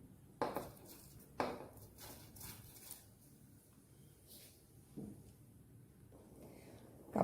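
Chunks of tapioca drop into a pot of water just coming to the boil, each landing as a sharp clattering splash, a few spaced hits over quiet kitchen bubbling.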